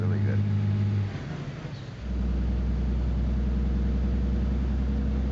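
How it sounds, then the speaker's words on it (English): A truck engine in the American Truck Simulator driving game drones steadily, a low, even hum that dips briefly then settles into a constant rumble, with someone talking over it. "I don't like the sound of this truck at all."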